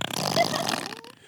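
A short, loud, buzzy fart sound effect with a rough, raspy texture that tapers off and ends in a faint squeak, heard alone in just over a second.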